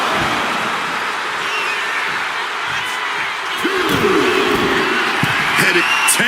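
A wrestling arena crowd in the WWE 2K26 video game cheers as CM Punk plays to the fans, a steady broad roar of voices with thumps and slams toward the end.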